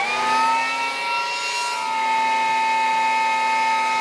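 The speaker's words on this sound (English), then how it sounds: "a handheld battery powered leaf blower" A Ryobi 40V cordless handheld leaf blower runs continuously, holding a steady, tonal motor whine with a whoosh of moving air throughout.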